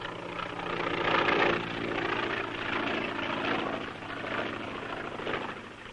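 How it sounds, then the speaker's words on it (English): Aircraft engine drone from a small propeller plane approaching a dry lake to land, a steady, fairly loud rotor-like hum that swells slightly and holds throughout with no talk. "That must be the plane. We'll let him land"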